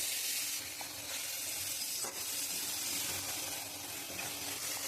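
Spice paste with ground coriander and tomato paste fries in oil in a wok, a continuous loud hissing sizzle for a fish curry with potato, onion and garlic, with faint stirring scrapes and no talk.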